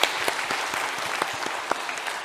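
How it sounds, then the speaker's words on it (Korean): A church congregation at a Sunday service gives a loud, full round of applause, a steady wash of many hands clapping close by throughout, with no talking over it. "우리 박수로 한번 격려하겠습니다"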